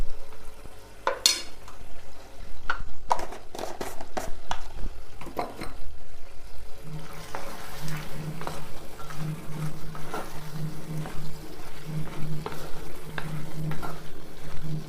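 Chicken with native cucumber and chili powder sizzles in a pan while a spoon stirs it, with repeated clattering scrapes against the metal and a steady frying hiss.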